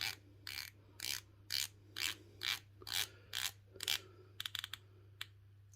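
An Addiesdive AD2102 dive watch bezel is turned in a steady series of about ten raspy ratcheting clicks, close but quiet over a low hum, ending in a few quick ticks.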